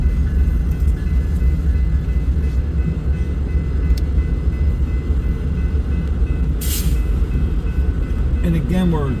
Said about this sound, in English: ES44C4, ES44AC, and an SD70 Mac on the westbound manifest.